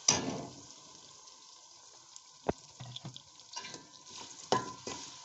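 Spice paste going into whole spices frying in a pan for chicken moti pulao: a soft hiss with scattered clinks and scraping stirs, one sharp knock midway, fairly quiet and close.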